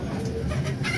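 Pigeons at a busy pigeon market in Lahore give low, soft coos under a dense wash of crowd and market noise, with no clear single call standing out.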